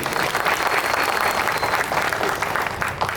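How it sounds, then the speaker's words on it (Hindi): A crowd at a youth discussion event in Sukma district claps loudly and continuously, a thick, close wash of many hands applauding without pause. "जी के लिए जोरदार ताली बजा दी।"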